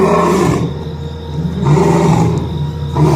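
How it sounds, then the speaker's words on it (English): A lion roaring in deep, drawn-out bursts that rise and fall, loud and close, with a short gap between calls and no voices. "It was a lion."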